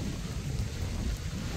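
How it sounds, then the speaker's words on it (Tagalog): Heavy rain pours steadily, a dense continuous hiss with a low rumble underneath, no voices. "Ang lakas na ng ulan, Nicole."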